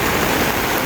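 Rain falls on a campsite at dusk, a dense, even hiss of drops on surfaces that is loud and continuous throughout, with no talking.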